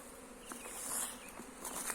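A steady, close hum of many bees buzzing at an apiary with nucleus hives, with individual insects droning past now and then; no talking.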